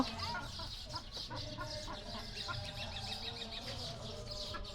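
Chickens cluck repeatedly at close to middle distance, overlapping clucks and short calls running continuously over low background noise with no clear speech.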